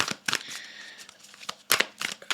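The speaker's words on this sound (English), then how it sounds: "I'm just going to quickly shuffle and get the ones that need to come out" A deck of cards is shuffled in quick bursts of crisp riffling and flicking, close and fairly quiet, with short pauses between them.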